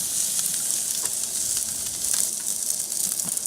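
Steak sears on a hot Big Green Egg grill, giving a constant bright sizzle and crackle with small pops. It is heard on its own, without voices.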